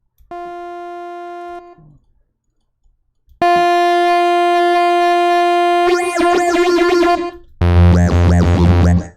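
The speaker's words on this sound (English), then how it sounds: "here's how to make a Skrillex growl" Electronic synth tones: a plain sustained note, then a long buzzing tone that breaks into warbling, wobbling Skrillex-style dubstep growl bass sweeps, loud and distorted.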